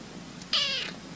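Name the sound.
cat meowing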